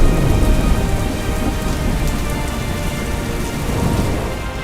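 Heavy rain pours steadily over a city in Surat, flooding roads and underpasses, with rumbling thunder beneath; a dense, loud, continuous wash with no voices.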